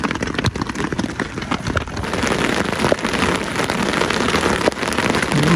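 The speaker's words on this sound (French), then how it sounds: "il y a l'orage et là, il grêle" Dense pattering of hailstones during a thunderstorm drumming on taut tent fabric, loud and close, with sharp individual impacts over a constant rattling roar.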